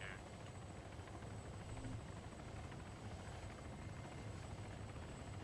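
A Blackfish helicopter from a video game, a winged craft with two propellers, thrums in a steady, loud, unbroken drone throughout, with no voices over it.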